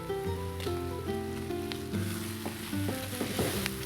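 Chopped onions and masala paste sautéing in a pan, a steady close sizzle with scattered pops and stirring clicks, heard alone under a faint background tone.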